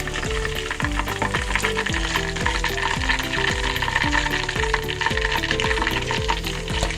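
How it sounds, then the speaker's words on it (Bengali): Chicken pieces sizzle and crackle steadily in hot oil, a continuous frying hiss with no talking. "বন্ধুরা, আমার মাংসগুলো ভাজা হয়ে গেছে। আপনারা এরকম ভালো করে ভেজে নেবেন।"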